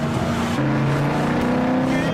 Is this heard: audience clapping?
no